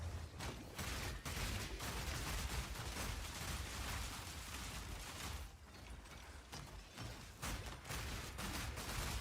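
Seizure cannon in a video game firing a rapid, dense barrage of mechanical bursts, loud and sustained without letup, with no talking over it.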